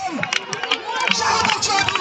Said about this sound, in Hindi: हर तरफ ग्राउंड में तालियों की शोर